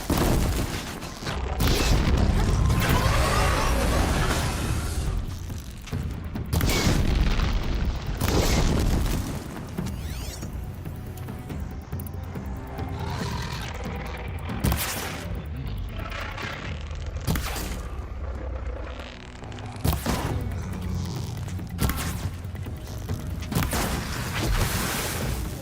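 A Sawtooth machine fight in the Horizon video game: loud booms, blasts and metallic scrapes burst repeatedly over a dense, continuous roar of combat.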